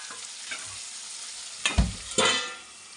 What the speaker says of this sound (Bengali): এখন আলুটা একটু ভেজে নেব।